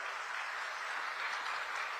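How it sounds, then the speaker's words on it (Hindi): A large crowd at an outdoor election rally in Khunti, Jharkhand applauds for Arjun Munda with dense, steady clapping that holds at an even level throughout, with no voice over it. "जोर से ताली बजाओ अर्जुन मुंडा जी के लिए भाई।"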